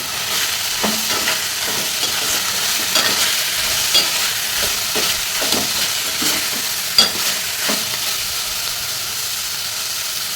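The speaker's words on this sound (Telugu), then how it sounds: "తోటకూర ఆకు కలర్ చేంజ్ అయిపోయింది ఇంకొక నిమిషం పాటు ఫ్రై చేసుకొని" Amaranth leaves frying in a pan give a loud, close, continuous sizzle, broken by repeated scraping strokes of a spatula as they are stirred.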